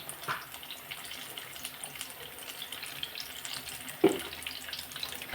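Raw banana fritters (bajji) bubbling in hot oil, one after another, with a steady close hiss and a few louder spatters near the end.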